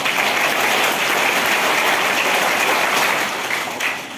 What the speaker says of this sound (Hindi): तो इनके लिए एक बार सैनिक ताली होनी चाहिए